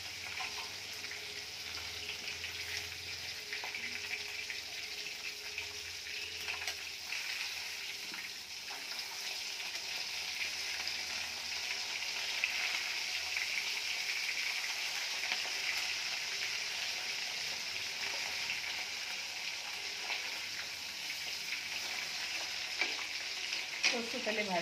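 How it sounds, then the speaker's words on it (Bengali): Pieces of fish frying in mustard oil in a pan give a continuous, close, even sizzle that grows slightly louder midway and carries on alone without talk. "সরষে তেলে ভাজছি,"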